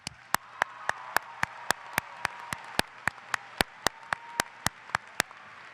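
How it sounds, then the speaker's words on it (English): Sparse, evenly spaced claps from a graduation ceremony audience honoring the graduates, sounding like one or a few people clapping in a steady rhythm over a faint hum, with no talking. "can we give a warm round of applause for all the graduates who have worked so hard to make it here"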